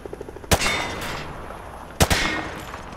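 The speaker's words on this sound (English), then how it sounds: "Grab that weapon off the table and fire at the targets behind you." Two sharp, loud gunshots ring out about a second and a half apart at a firing range with targets in Call of Duty: Modern Warfare 2, each a hard crack with a short echoing tail over quiet game ambience.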